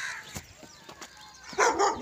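A dog in a guava fruit garden gives a few short, sharp barks spaced irregularly, then a louder, brighter yelp near the end, with quiet outdoor background between.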